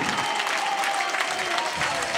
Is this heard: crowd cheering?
yes